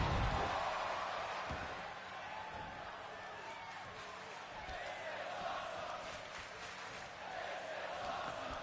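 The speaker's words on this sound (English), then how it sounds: "We have got a This Is Awesome chant from the crowd." Arena crowd in the WWE 2K25 wrestling video game keeps up a sustained, broad roar that swells near the start and stays loud throughout, with chanting voices blended into the din.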